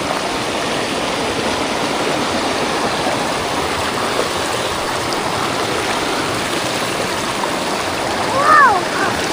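Loud, constant rushing of river water flowing nearby, a steady broadband roar, with a brief faint squeak near the end.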